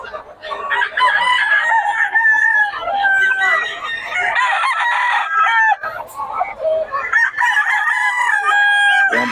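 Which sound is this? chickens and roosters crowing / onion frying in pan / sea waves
chickens and roosters crowing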